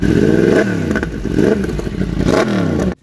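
A first-generation Yamaha MT-10 motorcycle with an SC Project stubby exhaust revs hard several times in quick succession with a loud, raspy, aggressive exhaust note, then cuts off abruptly.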